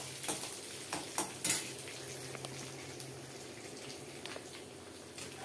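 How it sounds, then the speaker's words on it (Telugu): Curry leaves and lentils fry in hot oil in a pan, giving a faint, steady sizzle with a few soft clinks of a spoon against metal. "చూడండి, ఇది వేగుతుంది కదా."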